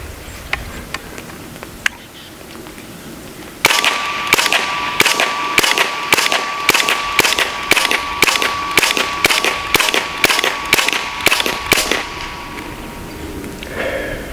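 A Hatsan Blitz .30 caliber air rifle fires pellets rapidly, about sixteen loud, sharp cracks in a fast, even rhythm over roughly eight seconds, after a few quieter clicks.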